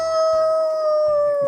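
A dog lets out a long, sustained howl that holds a steady pitch with bright harmonics throughout, loud and close, with faint low background noise underneath.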